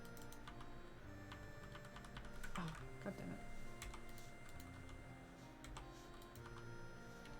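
Steady typing on a computer keyboard during a livestream of Zelda: Ocarina of Time, rapid faint clicking that runs throughout, with a man muttering briefly over it.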